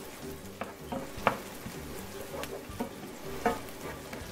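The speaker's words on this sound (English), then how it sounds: "now I'm going to add in my jalapeno." Chopped jalapeno is stirred into a pan of queso dip, making a soft continuous sizzle broken by spoon scrapes and clinks, close and without speech.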